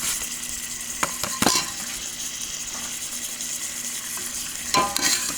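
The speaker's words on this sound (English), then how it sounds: "And I'll give that a bit of a stir." McCormick chili seasoning is stirred into a sizzling pot of chili, giving a constant close frying hiss with a few scraping strokes and knocks of a spoon against the pot.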